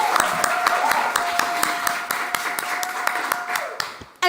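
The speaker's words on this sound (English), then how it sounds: "That deserves a round of applause." Applause at a climate solutions awards ceremony, a steady wash of clapping from an audience with a few sharper individual claps, sustained at moderate loudness, a faint sustained tone running under it, ending abruptly.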